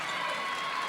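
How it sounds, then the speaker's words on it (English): Excited crowd noise at a 1997 high school girls basketball game, East Brunswick against Piscataway, a steady, dense roar of cheering voices filling the gym without a break. "Crowd very excited."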